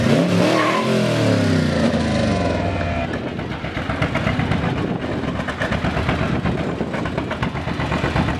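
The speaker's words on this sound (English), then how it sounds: "It is 1975 Corvette Stingray, 383 stroker engine, 4-speed, 500 horsepower. Why don't you rev it up for us?" A 1975 Corvette Stingray with a 383 stroker engine, 4-speed and 500 horsepower, revving loudly outdoors at a parade, its pitch sweeping down before settling into a steady, rough, throbbing idle.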